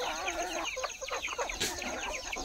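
Native desi gavran hens cluck in a busy flock on a village poultry farm, with overlapping chirps and calls coming steadily close by throughout, and one louder burst in the middle.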